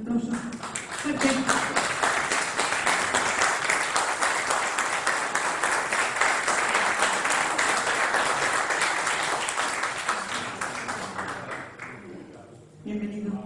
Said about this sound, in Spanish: Venga, un aplauso. Fuerte.